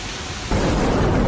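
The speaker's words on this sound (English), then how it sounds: "The whole city is filled with a show of nature, whistling wind, rushing rain," A dense, roaring wash of heavy rain and rumbling thunder over a city during a storm, loud and steady, surging stronger halfway through the brief burst.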